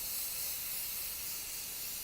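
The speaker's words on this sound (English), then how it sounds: "Now I'm using hairspray because I don't want to use the real fixative" Hairspray from an aerosol can misted over a dry pastel drawing, a steady continuous hiss lasting a couple of seconds, close and fairly faint, with no talking.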